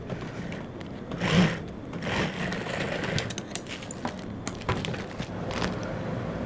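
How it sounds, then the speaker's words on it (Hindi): A sewing machine stitches trouser design pieces with a half-inch seam, a steady, fairly faint mechanical whir with small bursts of louder running. "इसको नीचे रखेंगे और स्कॉलिफ को ऊपर रखेंगे और आधे इंच के दबाव से सिलाई लगाएंगे"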